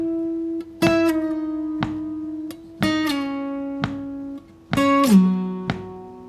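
An acoustic guitar picks out a descending line from a song as single plucked notes and ringing chords without strumming, each attack bright and sustained, struck at uneven intervals and close up, with no talking.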